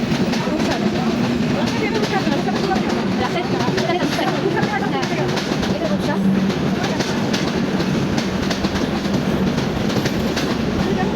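An intercity train rolls past close by at a level crossing in Naogaon, Bangladesh, with loud, continuous rumbling and rhythmic clattering wheels, and voices can be heard under the din.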